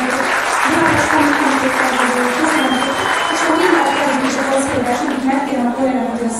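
Audience at a Budapest Comic Con talk applauding, a dense, steady and loud clapping that fills the room throughout.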